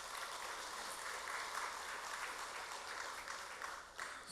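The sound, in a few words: congregation applauding in church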